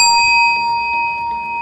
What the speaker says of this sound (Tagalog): In the last 10 seconds, the candidates will hear the sound of a bell once.